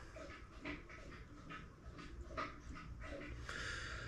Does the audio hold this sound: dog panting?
yes